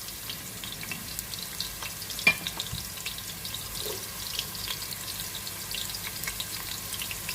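Chopped onion frying in a pan as the base for ginisang monggo, a steady soft sizzle throughout with a faint clink of a utensil partway through, fairly quiet and even.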